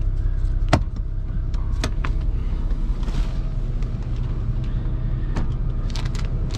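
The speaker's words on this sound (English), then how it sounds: "Let's see if we pull this top bed down," Top bunk bed pulled down inside a Kenworth T680 truck cab, with a few sharp clicks and clunks of the mechanism over a steady low engine rumble, heard up close.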